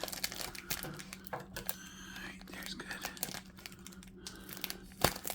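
Scissors or a blade cut open a memory foam pillow and its plastic wrapping, making close, quiet crinkling, snipping and tearing sounds, with soft speech heard faintly underneath.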